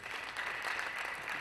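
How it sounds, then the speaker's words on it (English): An audience at a university convocation lecture applauds in a brief, dense, even wash of clapping heard from a distance, with no voices over it. "A round of applause, please."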